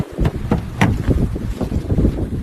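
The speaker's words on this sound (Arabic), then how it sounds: "الجو بارد اكو هوا" Cold outdoor wind gusts buffet the microphone in loud, rumbling bursts, close and rough, rising and falling over a few seconds with no speech.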